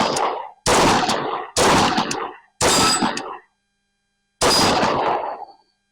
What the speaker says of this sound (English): Let's see how well I shoot it.